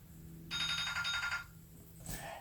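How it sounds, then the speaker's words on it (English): Mobile phone ringing indoors, one burst of bright tonal ringtone lasting about a second, fairly close and clear, followed by a brief sharp click. "And there's my phone ringing, wouldn't you know?"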